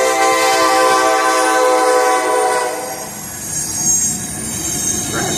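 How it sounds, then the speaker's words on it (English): Norfolk Southern trash train rolling past, loud sustained metallic wheel squeal with layered high tones over rumbling railcars, fading slightly midway then continuing steadily. "And the Norfolk Southern trash train."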